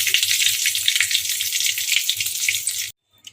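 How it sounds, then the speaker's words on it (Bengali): Bay leaves and dried red chillies fry in hot oil with a steady, loud sizzle and faint scraping taps, cutting off abruptly near the end. "তেজপাতা দিলাম, এটা ভালো করে আমি লাল করে একটু ভাজবো।"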